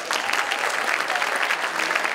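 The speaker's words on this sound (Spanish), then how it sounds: "recibamos al Dr. Pais con un caluroso aplauso" Warm audience applause greets a speaker being introduced at a Spanish-language talk, a dense, steady wash of many hands clapping at moderate level throughout, with no voices on top.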